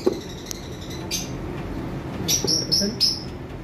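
A pair of DNA-tested clear-head lovebirds gives a brief burst of short, high chirps near the end, heard over a steady low background hum.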